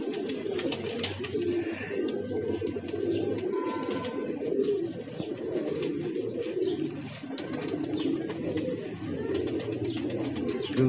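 Pigeons coo steadily and close by around a cement-sheet roof where a female pigeon comes in to land, soft repeated calls over a dense, continuous bed of outdoor noise with no talking.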